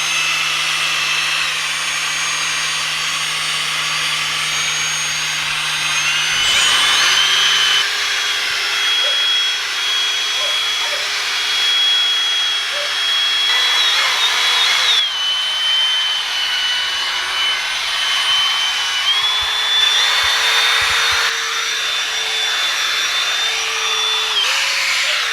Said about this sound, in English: the combination of this Meguiar's wheel cleaner and the drill brush do a phenomenal job getting them clean